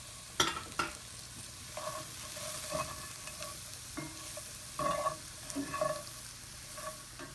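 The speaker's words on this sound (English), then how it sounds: "So we're just going to cook down the vegetables." Mixed vegetables and mushrooms with chorizo cook down in a frying pan, a soft, steady sizzle broken by bursts of scraping and clattering as everything is stirred, with no voices.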